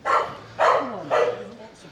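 A dog locked inside a parked car barks three times in a row, loud and fairly close, with the barks slightly muffled and a faint whine trailing after them.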